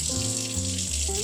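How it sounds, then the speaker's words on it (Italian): Molds rinsed under a steady stream of running tap water, a loud, close and continuous splashing from the faucet with no talk over it. "Non mi resta che passarli sotto l'acqua per inumidirli un po'"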